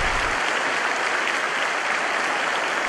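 A large church congregation applauds, a loud and dense wash of clapping that holds steady from start to finish.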